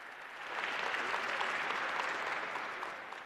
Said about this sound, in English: So please, Mr. Martins, a very big round of applause to you.